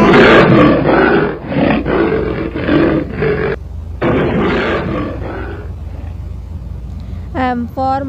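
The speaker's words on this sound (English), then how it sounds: "L for lion" A lion roars loudly and close in a long, rumbling series of bursts, ending with a brief voice near the end.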